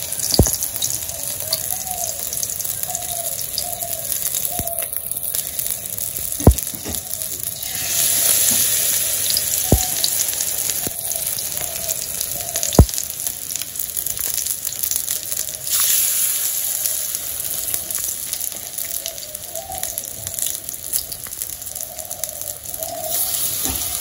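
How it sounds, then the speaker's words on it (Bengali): Flower fritters frying in hot oil in a village kitchen give a steady, close sizzle that runs throughout, with a few sharp clicks and faint background noise. "আমার ফুলের বড়া ভাজা হয়ে গেছে নামিয়ে নিব"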